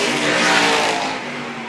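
Sprint car engines roar around a dirt oval at Toledo Speedway during a 500 Sprint Car Tour feature race, a loud, close, sustained blare of racing motors that eases slightly near the end.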